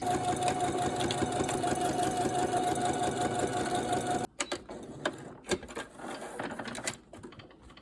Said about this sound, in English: I'm gonna sew around 3 sides